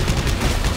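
Gunfire from the sci-fi horror video game Dead Space 3 during co-op play, a short dense burst of loud, noisy shots filling the whole moment with no talk.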